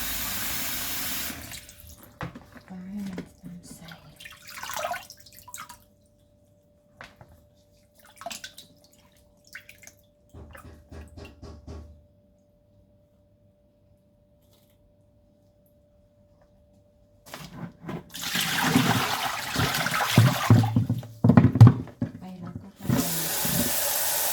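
Water pours and trickles into a vessel to soak steamed mackerel, splashing in bursts with quiet pauses between, then running heavily near the end, with occasional drips and clinks.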